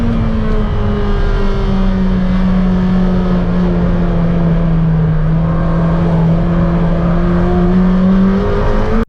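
A McLaren Senna tries to drift through the turn 2 hairpin at Buttonwillow on cold tires, its engine roaring loud and close with a steady, sustained note that sags slightly then climbs again.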